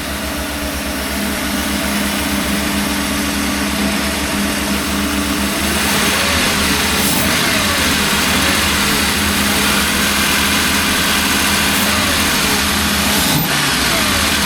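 A Mercedes 560SL engine runs at a steady, loud idle close by, a continuous low rumble with a slight lift partway through and no voices over it.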